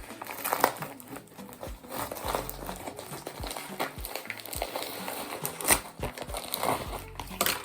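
Christmas wrapping paper being torn and crinkled off a gift, a continuous rustling and crackling with irregular loud tears, close by and without talk.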